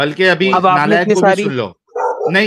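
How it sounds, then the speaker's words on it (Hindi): Dogs bark in the background of a heated online debate, the barks partly buried under continuous loud talking. "म्यूट करो जरा, पीछे कुत्ते भौंक रहे"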